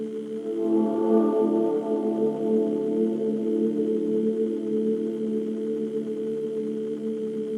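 A brooding, ominous music cue from the Winnie the Pooh video game Piglet's Big Game: sustained low layered drone tones hum steadily and evenly throughout, with a brief brighter swell near the start.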